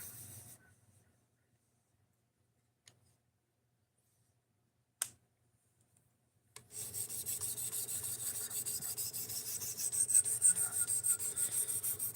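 A Spyderco Sage 5 knife edge is sharpened with steady, close rasping strokes that start after a long near-silent stretch broken by a couple of sharp taps, then continue without a break to the end.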